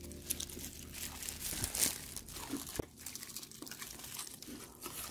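Crispy fried BBQ chicken being bitten and chewed up close, with crunchy crackling bites scattered irregularly across the clip, including a louder crunch near the middle.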